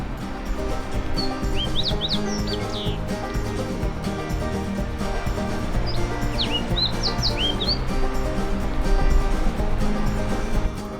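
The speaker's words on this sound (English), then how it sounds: "the last bird I saw at this location was a singing fox sparrow. Take a listen." A fox sparrow at Alta sings two bright, warbling phrases several seconds apart over a steady low background hum.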